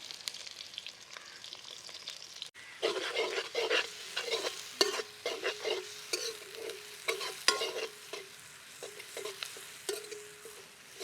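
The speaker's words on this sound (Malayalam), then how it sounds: "എണ്ണ ചൂടായി വന്നിട്ടുണ്ട് അതിൽ നമ്മൾ ആദ്യം ഇടാൻ പോകുന്നത് സവാളയാണ്" Onions dropped into hot oil in a pan for a Maggi noodles recipe, starting with a faint hiss, then a crackling sizzle with repeated stirring clinks and scrapes, close and clear with no voices.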